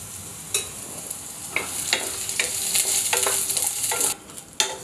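Onion roasting in a pan with a little oil, a soft steady sizzle broken by scraping stirs and light clinks of a utensil, close and unaccompanied by speech.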